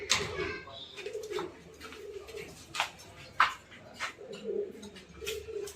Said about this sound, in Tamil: எல்லாம் வந்து நல்ல டைமிங் உள்ள சாதா புறாங்க